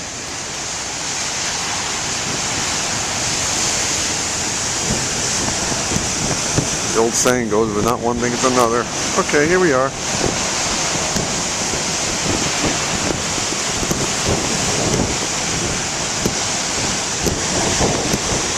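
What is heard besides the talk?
huge ocean waves at Beavertail Lighthouse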